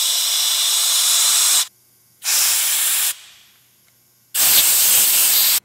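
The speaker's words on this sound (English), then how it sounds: "with my air gun, I like to force air through each one of these tiny little holes" An air gun blasts compressed air through the tiny holes of a Harbor Freight HVLP spray gun part in three loud, close hissing bursts, separated by short silences.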